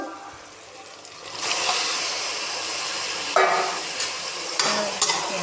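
Squid pieces frying in a pan, a loud steady sizzle and hiss swelling up, with stirring scrapes and occasional clinks of a utensil on top.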